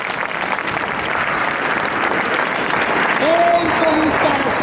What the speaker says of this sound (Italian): allora salutiamolo con un grande applauso